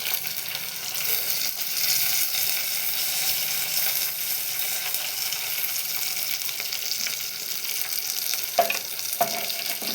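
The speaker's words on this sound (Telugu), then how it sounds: "పచ్చిమిర్చి కూడా కొంచెం వేగిన తర్వాత ఇందులోకి మనం గుప్పెడు కరివేపాకును వేసుకుందాం." Curry leaves and green chillies fry in hot oil for a tomato and mint chutney, making a steady, close sizzle with a few sharper crackles toward the end.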